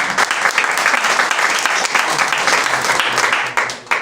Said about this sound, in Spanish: ¿Puede dar un aplauso a las mujeres que tenemos?